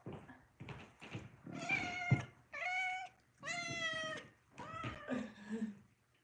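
A house cat meows several times in a row, drawn-out and insistent, close by and clear with short pauses between calls.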